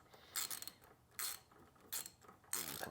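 A ratchet wrench tightening 10 mm bolts on the alternator of a 2007-2011 Honda CR-V, heard as short bursts of quick metallic clicking separated by pauses, close and fairly quiet, with no talking.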